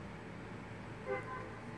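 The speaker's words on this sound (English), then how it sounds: "There's a honk honk, honk honk." A vehicle horn gives one short, distant toot that rises briefly above a steady outdoor background hum.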